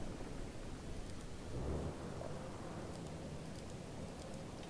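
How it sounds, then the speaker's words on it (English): An artillery shell barrage in the World in Conflict video game rumbles in from a distance, a dense, rolling roar with a heavier swell partway through, fairly faint overall. "Delivering a rain of shells at target coordinates."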